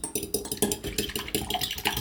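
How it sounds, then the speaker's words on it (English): Three eggs are whisked together in a jug, producing fast, regular tapping and clinking strokes with a bright, close, rhythmic patter throughout. "Crack each one into a jug and whisk them together"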